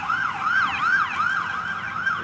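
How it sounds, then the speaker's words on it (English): An emergency vehicle siren wails in repeated rising and falling sweeps, moderately loud and fairly close, continuous throughout with no talk. "He's not bothered by sirens"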